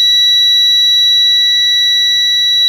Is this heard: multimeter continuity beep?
yes